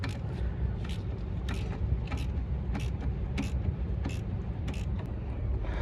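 Work on a 2004 Toyota Camry with a 3.0L V6 involves removing the ball joint from the lower control arm, giving repeated sharp metallic creaks and taps at a steady rhythm over a constant background rumble.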